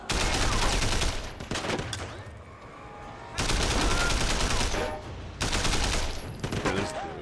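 A big gun in the Sleeping Dogs video game fires in loud, sustained automatic bursts, two long volleys separated by a brief quieter gap, close and dominant with little talk over it.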